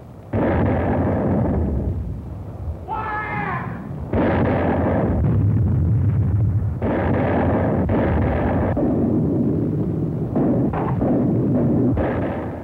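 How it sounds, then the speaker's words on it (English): Howitzer artillery fire from World War II battle footage of the fighting on Palau booms in loud, sustained blasts with long rumbling roars, one after another, a brief whistling shriek between them and no talk. "The crescendo of the howitzers prefaced each new attack."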